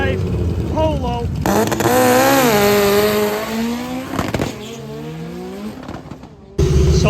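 A four-wheel-drive VW Polo race car running nitrous, its engine revving up and falling off in sweeping rises, loud and close, with someone talking over the engine noise in stretches.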